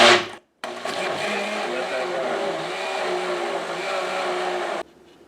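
A blender on its liquefy setting pulping paper and water for homemade recycled paper: a brief whir, a short gap, then a loud steady motor whine running evenly for about four seconds before cutting off abruptly.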